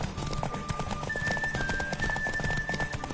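Rapid rhythmic hoofbeats of a galloping horse in The Witcher 3 video game, close and steady, with a thin whistling tone running over part of it.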